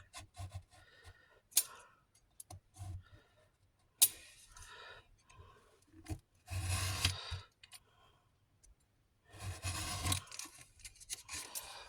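Scissors snip carefully through paper for a watercolor mini album, a series of short rasping cuts and longer crisp sliding strokes separated by quiet gaps, close up.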